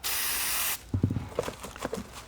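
Spray color hisses from a can onto a leather container in one loud, steady burst lasting under a second, followed by softer handling clicks and rustles.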